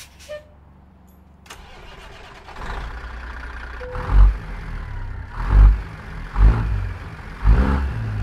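A truck engine being cranked and started in American Truck Simulator, a starter whir building into a deep, rumbling idle with periodic heavy throbs, loud and close with no talking.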